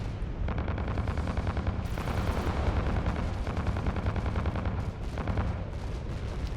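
Flak guns firing in the space combat game Fractured Space, a dense continuous barrage of rapid bursts that stays loud throughout with no talk.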